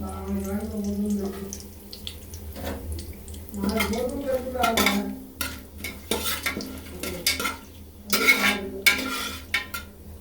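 Cinnamon and other whole spices hit hot oil in a pot while chicken biryani is being made, giving brief sizzling bursts and clatter between pauses, with a voice speaking at the start.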